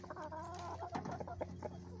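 A large rooster and big hens on a small homestead cluck and murmur softly in a quiet, close barnyard jumble, with a few sharper clucks standing out.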